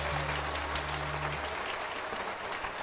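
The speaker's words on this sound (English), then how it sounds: "Thunderous applause." A concert audience applauds at a 1985 Celtic music celebration at Lakeland Community College, a steady, fairly distant wash of clapping under a low hum.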